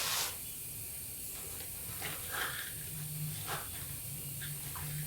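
Dal being added to hot oil and frying for poha chivda, a steady close hiss and sizzle with soft crackles throughout.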